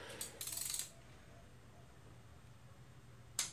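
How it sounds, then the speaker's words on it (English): Torque wrench set to 18 foot-pounds, tightening bolts during final assembly of a Honda B16B engine with a B20 crank, gives a quick burst of sharp metallic clicks, then quiet, then one more short click near the end. "So we're gonna click, get the click on the 18 feet pounds torque."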